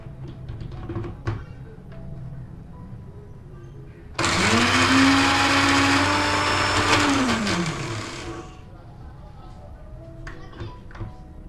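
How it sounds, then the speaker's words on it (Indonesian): A kitchen blender grinding seasoning paste for fried spiral macaroni starts abruptly, whirs loudly and steadily for about four seconds, then winds down. Faint sounds come before and after it. "Kita blender dulu."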